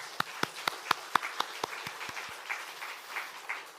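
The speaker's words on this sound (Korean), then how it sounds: "우리 박수로 격려 한번 하시죠" A church congregation at a Sunday morning service applauds, opening with a run of sharp, evenly spaced claps that give way to softer, scattered clapping fading into a general room murmur.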